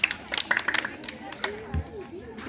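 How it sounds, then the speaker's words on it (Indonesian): Schoolchildren and parents at a class competition awards ceremony clap in a short, uneven burst, with a host speaking over and between the claps. "Coba yang keras tepuk tangannya."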